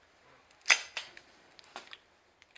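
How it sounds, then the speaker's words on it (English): A magazine is pushed and seated into a Remington-Rand 1911A1 pistol, giving one sharp metallic click followed by a few softer clacks and small handling taps, close and isolated. "put another magazine in here. I'm going to make sure that it's seated well."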